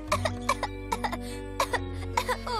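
An animated Doc McStuffins character coughs repeatedly in short, close, evenly spaced bursts over a soft musical background hum.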